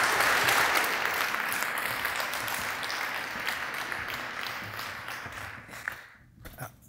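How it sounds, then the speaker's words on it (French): A large audience at an industry forum applauds steadily and loudly, the clapping thinning and tapering off toward the end. "Et je pense qu'on peut les applaudir."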